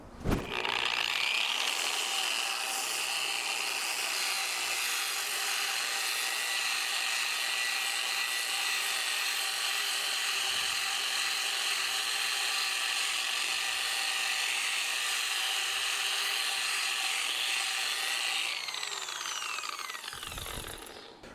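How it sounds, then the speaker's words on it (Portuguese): An Einhell TE-AG125CE 1100 W angle grinder with a sanding disc running at low speed against wood, a steady abrasive whir and rub held for about twenty seconds, starting and stopping at the ends. "Viram como lixa facinho a madeira?"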